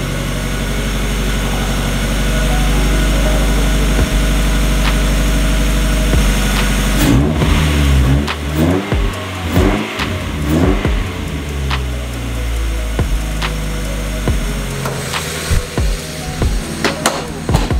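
A Mazda Miata with a custom cold air intake starts up and idles steadily, then blips through a series of throttle revs, loud and close, with no talking.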